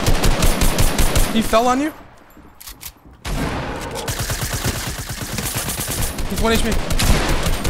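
Minigun fire in a competitive online shooter match, loud rapid bursts of automatic gunfire up close, a brief lull, then sustained firing again while players talk excitedly over it.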